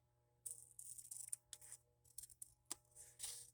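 Scissors snip through a strap for a handmade dinosaur journal, giving several short, crisp cuts in irregular bursts at close range with no voices.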